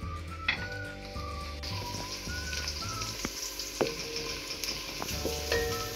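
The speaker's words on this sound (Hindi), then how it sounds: "अब हम प्याजों को अच्छी तरह फ्राई कर लेंगे" Chopped onions fry in oil with a soft, steady sizzle and irregular stirring clinks and taps of a spoon against the pan.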